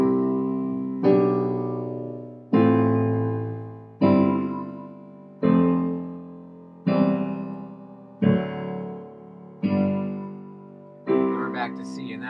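Piano plays verse chords in a steady pattern of eight sustained chords, struck about every one and a half seconds with smooth voice leading, each one ringing and decaying before the next, with no talking.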